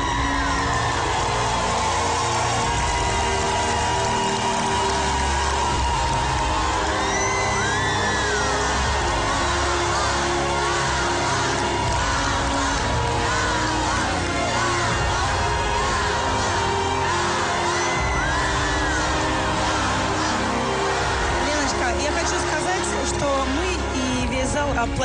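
A talent show hall audience gives a standing ovation, with dense sustained applause, whoops and cheering filling the room at a loud, steady level throughout, shouts rising over the clapping.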